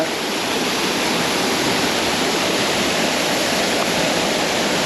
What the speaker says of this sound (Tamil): இந்த காட்டுக்குள்ளே இப்படி ஒரு அழகான அருவி இருக்குன்றது தான் உண்மையாக கனவே அறியாத ஒரு உண்மை